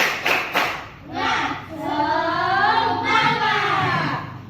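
Children in an elementary school class do a rhythmic spirit clap, a few sharp hand claps at the start followed by lively group voices chanting along.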